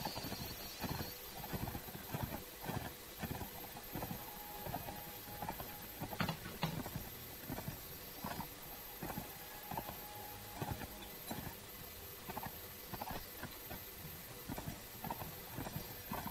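Steady galloping hoofbeats from a horse ridden in the Mount & Blade Warband video game, a rapid, even clip-clop rhythm kept up throughout at a modest level under faint game ambience.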